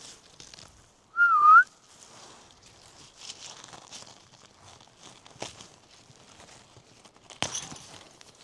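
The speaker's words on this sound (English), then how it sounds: "Was that not a whistle?" A single short, clear whistle with a rising, slightly wavering pitch rings out at a snowmobile campsite in the snow, set against quiet crunching and shuffling footsteps.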